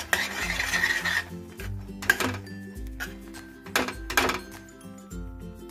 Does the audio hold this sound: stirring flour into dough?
yes